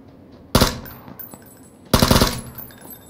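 Gunfire in the battle-royale game PUBG: two loud, close bursts of rapid automatic fire, the second about a second and a half after the first, each trailing off briefly.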